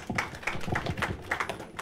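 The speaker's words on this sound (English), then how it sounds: "We can welcome him with a round of applause." A seated audience gives a short round of applause for a guest presenter at a discussion with labour organizations: scattered, moderately close hand claps with an uneven rhythm, fairly light and thin, with no voices over it.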